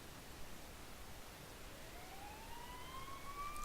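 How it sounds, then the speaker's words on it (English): A faint video game siren wail from Persona 4 rises slowly in the distance over a steady hiss of background noise; no voices. "You hear sirens nearby."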